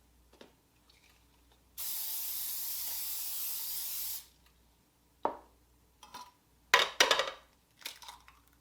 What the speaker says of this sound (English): we're gonna cook some eggs